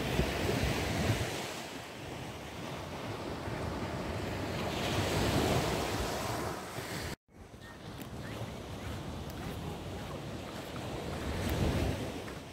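Surf rolls in steadily on the beach at Praia do Sissial, Governador Celso Ramos, Santa Catarina, with wind buffeting the microphone throughout and a brief dropout partway through.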